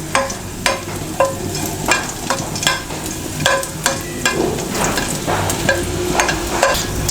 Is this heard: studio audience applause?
no